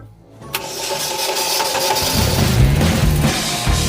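A Soviet UAZ van engine cranks over and catches, settling into a loud, steady running rumble close by, with no talk over it.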